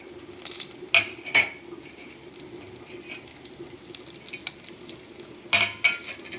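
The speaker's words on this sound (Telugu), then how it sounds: "దీనిలో ఇప్పుడు తాలింపు దినుసులు వేస్తున్నానండి." Whole tempering spices fry in hot ghee in a pan for carrot rice. A soft, steady sizzle runs throughout, broken by a few sharp metallic clinks of a spoon against the pan.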